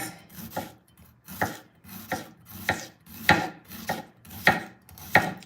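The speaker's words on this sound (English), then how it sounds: "I'm chopping vegetables with a bread knife" Repeated sharp chopping strikes of a bread knife cutting vegetables on a cutting board, about one every second, close and fairly loud, with no one talking.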